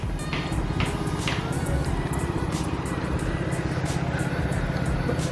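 Five-cylinder engine of an RS3 running steadily nearby, a throbbing low idle with a continuous rumble and faint ticking clicks over it, no speech.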